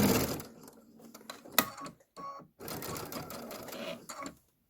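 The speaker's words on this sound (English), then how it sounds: "I'm going to sew forward again." A sewing machine stitches a chambray tote in bursts of rapid mechanical whirring, stopping briefly between runs, close and clear with no talking.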